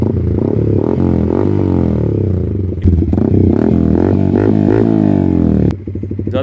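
A Yamaha R15 V4 fitted with an SC Project carbon exhaust is revved at partial throttle, its close, loud note rising and falling in repeated sweeps before a sharp cut and a choppy idle.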